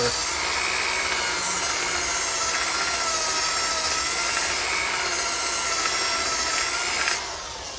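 A power sander works a tear-out spot on a wonky wooden bowl held still on a lathe, giving a steady, loud whirring and rubbing hiss that runs unbroken and stops abruptly near the end.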